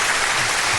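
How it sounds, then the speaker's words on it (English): Dense crowd applause at a public meeting, a loud continuous wash of clapping with no gaps, heard briefly as a burst. "The crowd's giving you a standing O"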